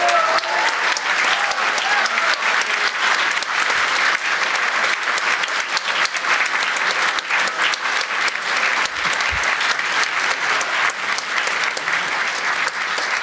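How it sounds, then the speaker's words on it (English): An audience at the EFNW 2012 convention closing ceremony applauds: dense, loud, sustained clapping from a large crowd that holds steady throughout without a break. "You should give yourself a little applause."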